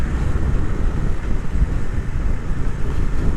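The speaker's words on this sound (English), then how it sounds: "It's a very blustery day, but it's not cold." Blustery wind roars steadily across the microphone of a rider on a Triumph Speed Twin motorcycle, a loud, dense buffeting rumble that masks any engine sound and carries no speech.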